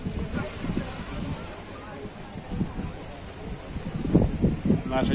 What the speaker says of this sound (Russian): Наше черное ласковое море.